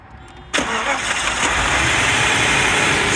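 A Mercedes S420 W126 with a 4.2 liter V8 turns over and fires up, then settles into a steady, smooth idle that stays loud and close for the rest of the moment.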